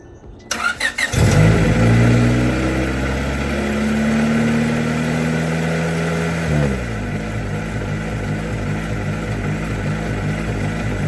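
A cheap project car engine, badly in need of an exhaust, cranks and catches with a burst, then settles into a loud, rough, gruff idle with a slight rev and a lumpy, pulsing rhythm close by.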